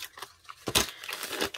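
Scissors snipping and tearing through the plastic of a stationery mystery package holding washi tape, a few brief crinkly cuts and rustles close up, with one louder slicing burst in the middle.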